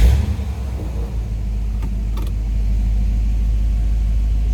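A 1957 Ford Fairlane 500 Skyliner retractable hardtop's engine runs close and loud with a deep, steady low rumble after a rough start, a couple of faint clicks partway through, with no voices.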